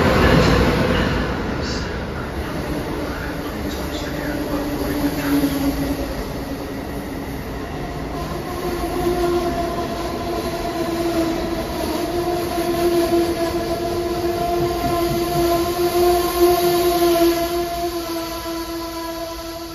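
Amtrak and NJ Transit trains pass through Metropark station in New Jersey: a steady, loud rolling rumble of rail cars, with long sustained horn blasts ringing out through the second half.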